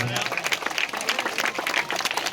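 Lively applause from a gathered audience at a school silver jubilee food fair, with claps rising and falling and some voices mixed into the crowd noise.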